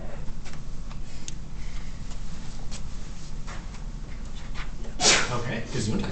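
A single sharp sneeze bursts out late in a classroom math lecture, standing out over a steady background of faint room noise and ticking.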